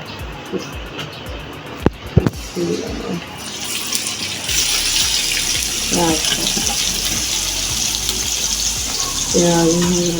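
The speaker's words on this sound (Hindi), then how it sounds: "भिंडियाँ खड़ियाँ फ्राई हो गई, मैं प्याज पा लगी" Onions sizzle with okra in a frying pan, a steady loud hiss that grows after a couple of clatters, with brief bursts of talking over the frying.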